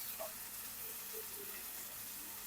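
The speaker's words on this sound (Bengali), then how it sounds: "এখন এটাকে সুন্দর করে এখন ভাজি নিতেছি যাতে খেতে সুস্বাদু হয় এবং পেঁয়াজটাকে একটু রসালো করে নিতেছি" Onions fry gently in a pan, a faint, even sizzle with occasional soft bubbling pops, heard alone at low volume.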